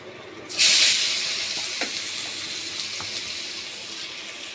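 Grated carrots hit hot ghee in a kadhai for carrot halwa, a sudden loud sizzle that hisses on and slowly settles, with faint clinks underneath.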